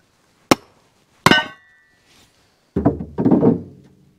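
Two sharp, loud strikes on a Kindling Cracker splitting kindling, about a second apart, followed by a quieter clatter and rumble of split wood settling, with no talking.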